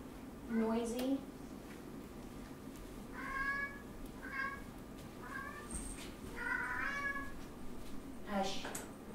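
A cat meows repeatedly, about five or six drawn-out calls with gaps between them, fairly close over a faint background hum.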